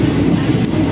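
An old long-distance passenger train running in Thailand, heard from on board with wooden seats: a loud, steady rumbling roar of wheels and carriage noise, continuous and close, with no voices.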